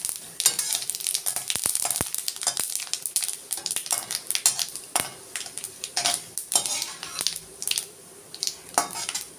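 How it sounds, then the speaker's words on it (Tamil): Fennel seeds and cinnamon crackle and sizzle in hot oil for tomato soup, with sharp pops and a steady frying hiss, plus a few clinks of a spoon against the pan. "எண்ணெய் காஞ்ச பிறகு இந்த சோம்பு பட்டை போட்டு தாளிக்கணும்"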